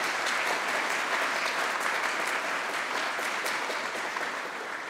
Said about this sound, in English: can I just have a round of applause for all the people who have volunteered